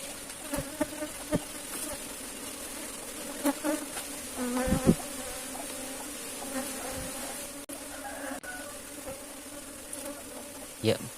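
Apis cerana honey bees at a small bee farm buzz continuously and close up during the first honey harvest, a dense droning hum with scattered clicks and handling knocks.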